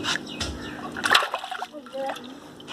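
Live fish splash and slosh in canal water inside an old pot, giving several brief, close splashes with quieter gaps between them, and a voice speaks over parts of it.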